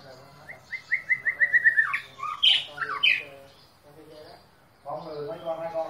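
White-rumped shama birds give a quick run of rising chirps followed by sharper squawking calls, close and fairly loud, with Vietnamese voices talking over and after them.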